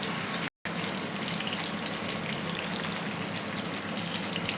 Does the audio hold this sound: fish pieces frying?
yes